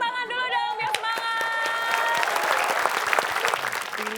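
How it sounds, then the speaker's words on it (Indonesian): A studio audience at a televised quiz show claps in a loud, dense burst of applause, with tonal music and a host's voice mixed in at the start. "kita berikan tepuk tangan dulu dong, biar semangat"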